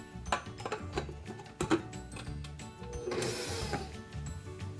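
Electric mixer whirring through cake batter as dry ingredients are added, starting with scattered clicks and knocks, then settling into a steadier, louder mechanical buzz and rattle in the second half.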